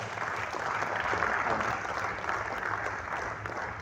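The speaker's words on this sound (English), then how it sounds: "Please, a round of applause." An audience at a business talk applauds with steady, moderately loud clapping that holds evenly throughout the short stretch, with no voices over it.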